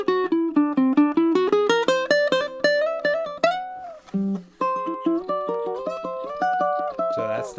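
Ukulele playing jazzy chords with a sharp 5, plucked notes and strummed chords in a clear close melodic run, ringing tones climbing in pitch with short gaps between phrases and no voice.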